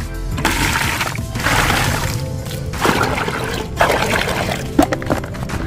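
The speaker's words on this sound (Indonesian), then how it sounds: "Ini kita isi dengan menggunakan air terlebih dahulu." Water pours in bursts into a cut-down plastic water gallon, splashing and sloshing loudly and fairly close, with brief pauses between pours and a sharp knock near the end.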